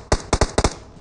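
Grenade blasts in PUBG Mobile: five sharp, loud cracking bursts in quick uneven succession, each with a snappy attack and brief decay, with no talking over them.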